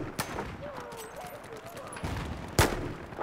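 A single sniper rifle shot in Battlefield 4 cracks out sharply and close near the end, after a quieter stretch of game ambience and faint background sound.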